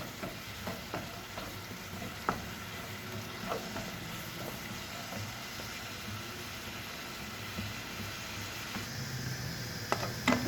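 Chopped leeks sautéing in a pot for fava bean soup give a steady, soft sizzle throughout, with occasional light clicks from stirring and no voices.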